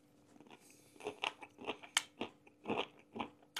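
Crunchy fermented beetroot is bitten into and chewed up close, giving a quick series of sharp, crisp crunches and wet snaps in an uneven rhythm against near silence.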